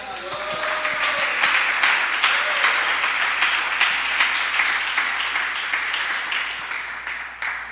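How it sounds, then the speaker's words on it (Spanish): A church congregation claps for the Lord during a Spanish-language sermon, giving loud, close, dense applause with a slightly rhythmic pulse that runs the full length without interruption. "¿Cuántos le dan aplauso al Señor?"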